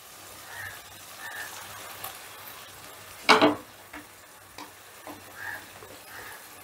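Marinated gandharaj-lime fish frying in a pan of well-cooked spice paste, a steady soft sizzle under stirring, with one sharp loud burst of spitting oil midway and light scraping clinks.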